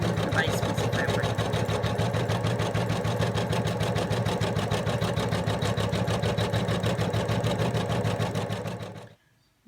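An embroidery sewing machine stitches a mouse outline onto fabric with a steady, loud, rapid mechanical chatter that runs evenly for about nine seconds and then stops abruptly.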